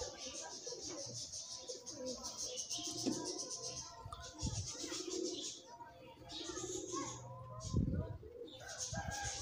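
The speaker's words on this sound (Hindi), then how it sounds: "ये स्लेटी बिच्छू कबूतर हैं" Salety Bichoo pigeons cooing softly in low repeated calls, with a rooster-like crow and other bird sounds mixed in, fairly faint and close.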